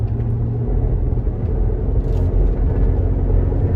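Steady low engine rumble and road drone from inside a car in fourth gear with a suspected leaking transmission, a loud, even hum with no talking.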